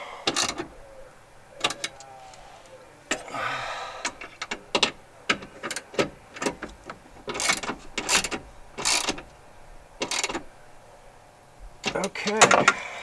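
A ratchet tightens metal bolts beneath the dash of a 2006 Jeep Wrangler TJ, giving a series of short, close clicking bursts with pauses between them, while someone talks quietly in the gaps.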